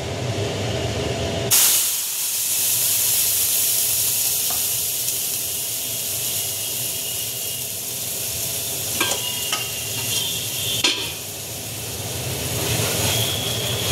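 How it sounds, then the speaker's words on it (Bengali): Tomato paste drops into hot white oil in a pan with a sudden loud hiss. A strong, steady sizzle follows, with occasional scrapes of stirring, close and with no voices. "সাদা তেলটা গরম হয়ে গেছে, এর মধ্যে আমি টমেটো পেস্টটা দিয়ে দিচ্ছি।"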